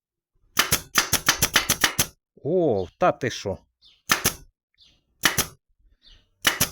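Dnipro-M pneumatic stapler firing in quick bursts: a fast run of about eight sharp clacks, then single and paired shots, loud and close, with someone talking between them.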